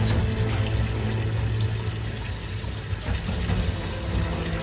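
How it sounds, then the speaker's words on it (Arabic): Treated water poured slowly into a new aquarium tank being filled, a steady low wash of liquid running continuously without pause, close and fairly full. "اجيب المية المتعالجة بتاعتي وابتدي انزلها واحدة واحدة واملى الحوض"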